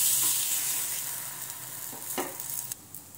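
Mixed dal appe fry in an appe pan as they are turned over, with a soft continuous sizzle and a few sharp clicks and scrapes from the flipping, gradually quieting.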